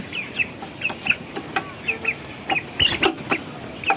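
Broiler chickens cluck repeatedly in short, sharp bursts, close by and fairly loud, with a steady scattering of calls throughout.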